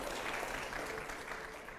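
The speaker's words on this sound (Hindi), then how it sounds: "तालियां जरूर हो प्लीज" A brief, faint wash of crowd applause during a televised debate or interview session, a soft continuous clapping texture heard from a distance.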